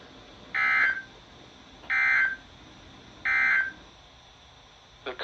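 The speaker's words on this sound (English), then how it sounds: "the National Weather Service has just activated the public warning alarm tone" A National Weather Service weather radio sounds its warning alarm tone during a test, three identical loud tone bursts of about half a second each, evenly spaced, followed by a short faint blip.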